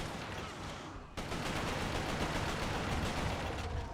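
Dense enemy gunfire in Resistance: Fall of Man, a steady barrage of overlapping shots that jumps louder after the first second and stays heavy throughout, with no talking.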